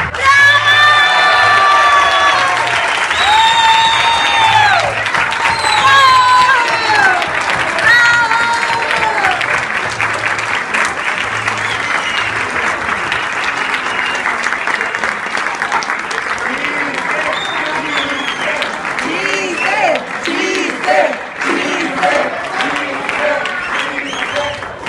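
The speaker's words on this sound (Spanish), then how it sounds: "Demos un fuerte aplauso y un reconocimiento a Víctor Sánchez." An audience at an award presentation breaks into loud applause, with cheering, whoops and children shouting; the dense clapping continues close and steady, then slowly thins and fades.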